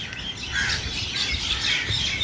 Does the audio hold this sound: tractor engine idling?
no